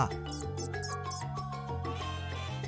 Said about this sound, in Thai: มีหนูสายพันธุ์หนึ่งที่อาศัยอยู่ในป่าของอเมริกากลาง แสดงดนตรีที่น่าทึ่งได้